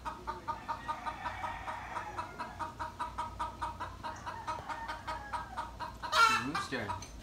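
A rooster stuck in a tree clucks in a steady repeating rhythm throughout, close and moderately loud, with a brief louder squawk or flutter near the end.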